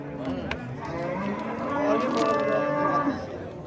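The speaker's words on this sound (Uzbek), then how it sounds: "Sigirimiz." A cow lets out a long, low, drawn-out moo at close range at a livestock market in Yangiqo'rg'on, with people talking nearby and general outdoor background noise.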